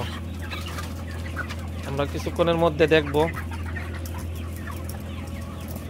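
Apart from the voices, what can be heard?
chickens clucking in a shed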